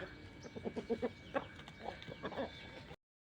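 A grey hen clucks in a run of short, close calls with a few softer pauses, alone with no talk.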